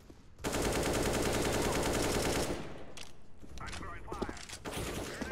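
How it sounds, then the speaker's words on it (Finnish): A gun in CS:GO emptying a full magazine, a fast continuous burst of loud automatic fire lasting about two seconds, followed by quieter game sounds and talk. "Ammu Jani lipas tyhjäks tähän näin."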